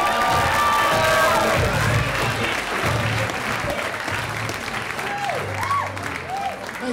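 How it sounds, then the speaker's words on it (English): Loud audience applause and cheering greet a comedian at a stand-up class show, with dense clapping, whoops and shouts holding steady throughout, and crowd voices mixed in. "How about a big round of applause for Robert Anthony?"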